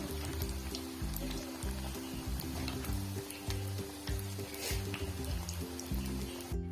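Hara bhara vegetable kebabs shallow frying in oil on a gas stove give a steady, close sizzle with fine crackles throughout, while a tonal musical backing plays underneath.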